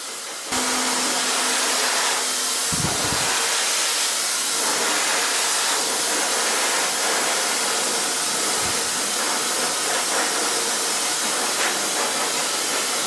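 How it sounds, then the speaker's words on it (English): A handheld hair dryer blows steadily and loudly, a continuous airy roar lasting throughout while hair is finger-dried after a pixie-punk haircut and colour, with a brief low click near the start. "Gonna use my fingers to blow dry this."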